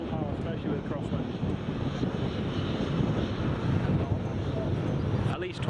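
Aircraft engines roaring at full power during a crosswind at Newcastle Airport, a steady broad rumble with wind buffeting the microphone, voices talking over it.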